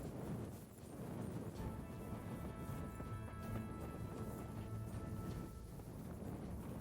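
Horse in the medieval open-world game Kingdom Come: Deliverance, a continuous run of galloping hoofbeats with heavy thuds and clatter, fairly close, with no talk over it.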